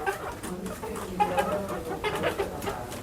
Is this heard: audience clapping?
no